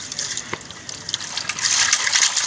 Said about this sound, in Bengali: তারপর কাঁকড়াগুলোকে খুব ভালোভাবে ধুয়ে কিন্তু আমি পরিষ্কার করে নিচ্ছি